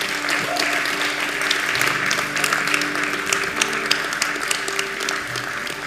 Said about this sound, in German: dieser Applaus ist dein Applaus